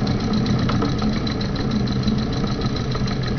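An engine running without a flywheel runs steadily nearby with a rough, knocking idle, loud and continuous throughout.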